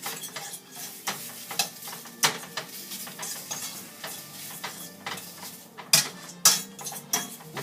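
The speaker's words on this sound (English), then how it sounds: "so you just got to keep it stirring" Cream cheese stirred in a pan over a medium flame for a shrimp pasta dish: a spoon scrapes and clinks against the pan in irregular strokes, close up, over a light sizzle with no voices.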